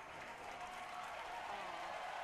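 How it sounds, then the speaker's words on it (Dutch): A distant crowd cheers at a rocket launch as the rocket spins and explodes high in the air, heard as a faint, continuous wash of crowd noise with no individual voices standing out. "En weer gejuich."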